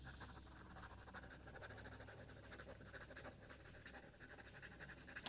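Close, quiet scratching of an extra fine Asvine V126 teal acrylic fountain pen nib moving quickly across paper, rapid continuous strokes in a hushed room.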